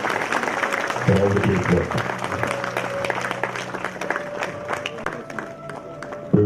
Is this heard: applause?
yes